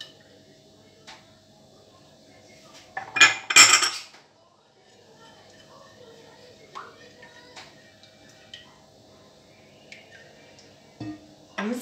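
Eggs and sugar mixed in a bowl, with light utensil taps and a short burst of loud, rapid clinking of a whisk or spoon against the bowl, faint talking in the background.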